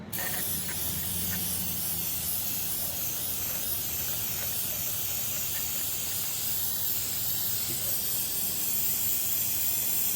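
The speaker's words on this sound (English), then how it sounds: "I'm going to use the aircraft remover and give it a good spritz" Aircraft paint remover sprayed onto an old RCA drive-in speaker: a long, continuous aerosol hiss, steady and fairly close, running unbroken for about ten seconds with faint mechanical clicks beneath it.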